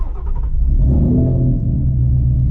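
A Shelby GT350 V8 gives off a deep, loud, close-up exhaust rumble that swells briefly as if revved, then settles into a steady low idle growl.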